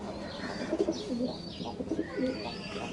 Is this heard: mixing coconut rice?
no